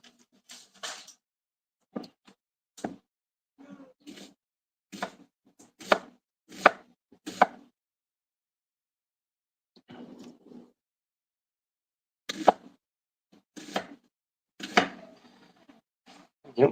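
Knife chopping food into tiny bits on a board, sharp close rhythmic strikes in several bursts with short pauses between them, no talking.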